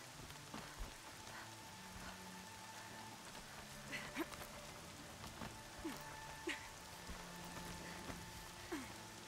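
Rain in the video game Horizon Zero Dawn, with fog: steady rain patters on surfaces as a constant soft wash, with occasional louder droplets and faint background tones.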